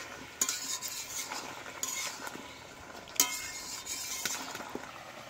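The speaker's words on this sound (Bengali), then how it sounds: "তুলে নিয়ে আর একটু নাড়াচাড়া করতে থাকব।" A utensil stirring bottle gourd (lau) as it simmers in a pot, with repeated scraping clinks against the metal over a steady soft sizzle, close up and with no voices.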